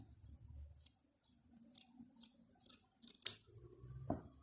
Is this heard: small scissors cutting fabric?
yes